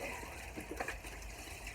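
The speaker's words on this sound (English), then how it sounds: "pour a little bit of the brine inside of the cavity" Turkey brine poured from a container, a short soft splashing pour heard close and faint, with no talk.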